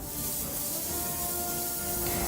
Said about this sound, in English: I begin airbrushing the color on them